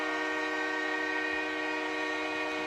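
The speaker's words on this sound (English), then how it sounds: "The train horn is sounding because it's a key 3rd down." In the Madden 20 football video game, a stadium train horn sounds on a key third down: one sustained, loud, blaring horn blast with a steady chord-like tone and no talk over it.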